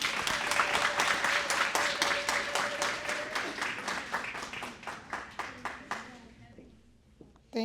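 Applause from an audience at a community center's annual gala, a thick wash of many hands clapping close by that thins into spaced, rhythmic claps and fades out near the end, with a faint voice underneath.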